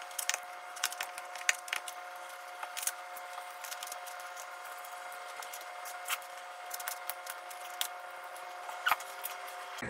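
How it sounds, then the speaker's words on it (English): Small sharp snips and clicks from scissors cutting open a fetal pig's mouth during a dissection, close range, irregular and quiet against a faint steady hum, no talking. "now we're going to cut open the mouth here. I'm going to use the scissors provided"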